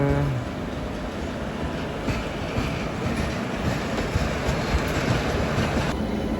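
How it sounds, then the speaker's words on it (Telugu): A train of ICF coaches passes close by with a steady rumbling clatter of wheels on track, loud and continuous throughout. "అటు సైడ్ నుంచి ఒక ట్రైన్ అయితే బయటకు వచ్చేస్తుంది. ఐసీఎఫ్ కోచెస్తో అయితే రన్ అవుతుంది ఆ ట్రైన్"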